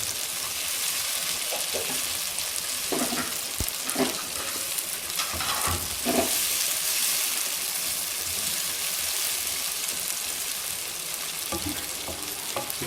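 Okra with added tomato cooks in a pan over low heat, a steady soft sizzle broken by a few scrapes and stirs of a spoon, with no talking.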